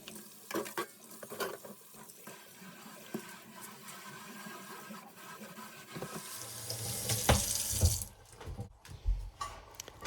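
Tap water runs into a kitchen sink in a cabin to soak dishes, a steady rushing stream that grows louder near the end, with clinks and splashes of dishes being handled.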